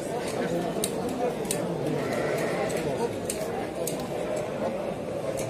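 Rams bleat at a busy livestock market, their calls rising over a constant din of crowd chatter and shuffling, with people talking nearby throughout.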